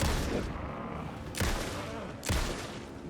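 Three heavy gunshots boom out about a second apart in the Alan Wake II video game, each a sharp loud crack with a rumbling tail fading under a quiet, murky background.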